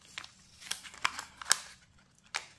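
A paper envelope being opened carefully by hand, a series of close crinkling, crunching and tearing rustles in short bursts with quiet gaps, no talking.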